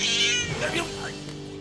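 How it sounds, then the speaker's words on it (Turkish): A cat gives a loud, close meow that rises and falls, drawn out into a short whining yowl lasting over a second. "Adı üstünde nankör kedi."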